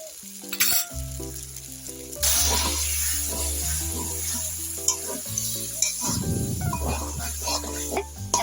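Taro leaves frying in homemade ghee in a home kitchen pan: a steady, close sizzle with occasional stirring scrapes and some tonal sounds underneath, and no talking.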